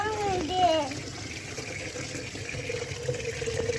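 A tap runs water into a container for watering plants, a steady moderate flow at close range, partly under a child's and an adult's voices talking.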